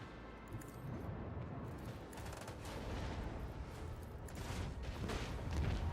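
Howler Cannons fire in a video game as a dense, continuous barrage of rapid booming shots and crackling impacts, loud and sustained throughout with no pause.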